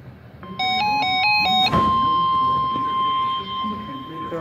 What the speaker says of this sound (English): The warning alarm tone will be activated for hazardous weather watches and warnings